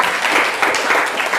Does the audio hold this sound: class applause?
yes